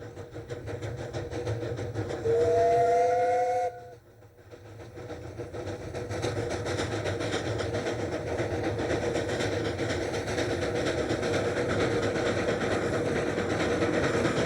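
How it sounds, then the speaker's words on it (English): Narrow gauge steam locomotive hauling three passenger cars gives a short, loud two-tone whistle blast, followed by a steady rolling chuff and rumble of the train that continues without letup. "Pulling 3 passenger cars is easy work for this little engine"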